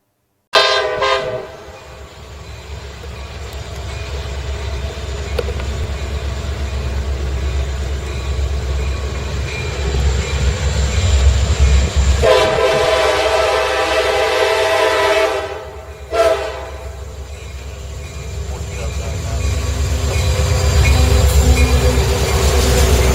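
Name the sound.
road railer train on rail lines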